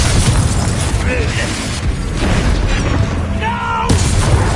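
A Confringo fire spell bursts with booming blasts and crackling magical mechanisms in a Hogwarts Legacy battle, loud and continuous throughout, with combat voices and shouting layered over the explosions.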